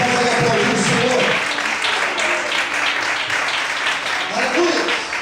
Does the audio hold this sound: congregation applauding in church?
yes